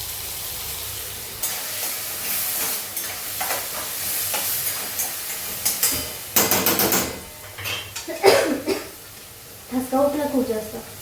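Vegetables added to onions browning in a pan, bursts of sizzling and stirring mixed with knocks of a utensil, with a person speaking over parts of it.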